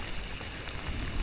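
Rain falls steadily on a rice paddy during planting season, a continuous close, even patter of drops with no voices.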